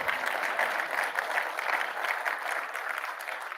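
Sustained applause and cheering from a large conference audience at a mayors' gathering, a continuous dense wash of clapping with crowd murmur, fairly distant and even throughout.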